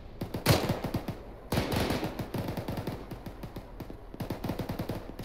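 Rifle fire in the ArmA 3 military shooter, rapid rhythmic bursts of sharp cracks, two louder volleys followed by steady repeated shots, close and prominent with no talk over them.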